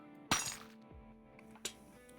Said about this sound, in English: Why it sounds like a broken glass?